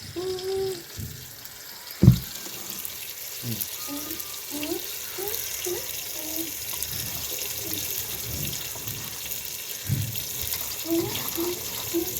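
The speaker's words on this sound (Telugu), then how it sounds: "ఇప్పుడు ఈ మగ్గ తరగల ఆకుకూరని అయితే కడుగుదామండి" Leafy greens being rinsed in a sink or basin of water, with splashing and running-water sounds over steady low background noise and a sharp knock near the start; a voice may be faintly present.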